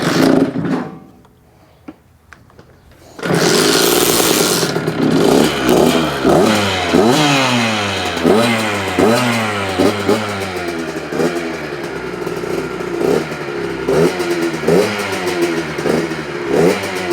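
A Beta X Trainer motorcycle with a fouled spark plug and an odd auto clutch starts after a short quiet pause, then idles loudly up close and revs again and again in sharp rising and falling bursts.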